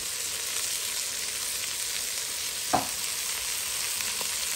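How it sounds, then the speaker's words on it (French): Shrimp and eggs frying in a pan give a steady, even sizzle, with one brief scrape of a utensil stirring the mixture partway through. "Mélange bien un peu."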